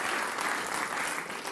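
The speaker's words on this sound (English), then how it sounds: "I don't understand the applause." A short burst of audience applause at a comedy game show, continuous, close clapping at a steady level throughout, no talk on top.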